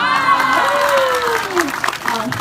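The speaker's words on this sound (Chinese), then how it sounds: "掌声不要断哦" Crowd applause at a Buddhist temple groundbreaking ceremony, steady dense clapping throughout with a voice speaking over it in the middle.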